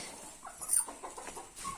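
Soft, low clucking from a few hens, brief and faint, with quiet background noise.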